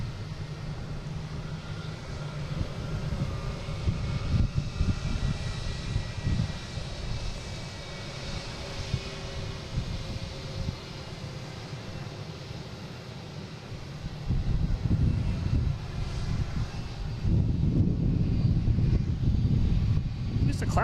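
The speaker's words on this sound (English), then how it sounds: "we have an A220 heading to Austin. Delta." Delta Airbus A220 jet departing for Austin, a steady broadband engine roar that swells louder toward the end, with speech-like murmur mixed in.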